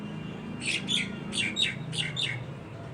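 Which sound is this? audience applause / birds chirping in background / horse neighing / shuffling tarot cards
birds chirping in background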